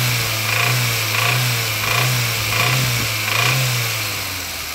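A car engine running rough and misfiring idles with a steady low drone while being revved in about five rhythmic pulses, close and fairly loud.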